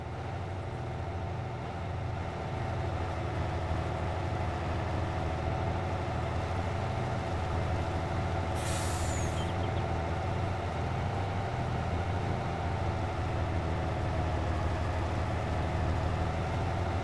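A truck in Farming Simulator 22 drives with a steady, loud engine drone that runs unbroken throughout, with no talk over it.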